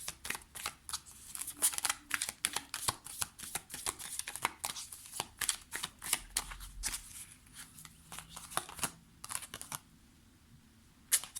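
Tarot-style cards shuffled for a card reading produce a rapid run of crisp, close riffling clicks and flicks in irregular bursts, continuing with short gaps and no talking.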